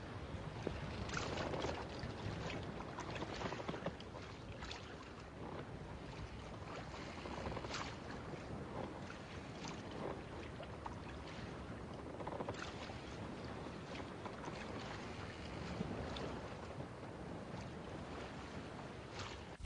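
A boat out on open sea, with steady wind noise and water wash rolling continuously and fairly loud, no voices.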